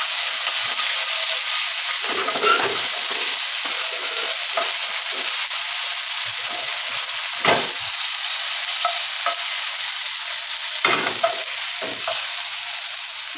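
Ginger garlic paste sautéing in a hot pan for a homemade chicken masala, a continuous close sizzle and hiss with scattered soft stirring scrapes and pops, no voices.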